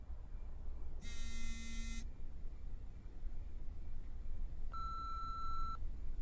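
A phone rings unanswered in two separate electronic tones, each about a second long and separated by a pause, heard faintly over a steady low hum.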